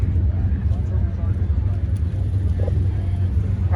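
A Pontiac-powered car idles at a Pontiac Nationals car show, a steady low engine rumble held close and loud throughout, with crowd noise around it.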